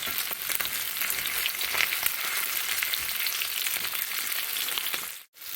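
Dava fish fries with curry leaves in a pan, a loud steady sizzle that is continuous and close, with a brief dip near the end.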